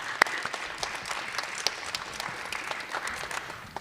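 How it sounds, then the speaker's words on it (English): A small audience at a high school senior recognition ceremony claps steadily for a few seconds, a moderate patter of applause with a couple of sharper individual claps. "let's give him a nice round of applause"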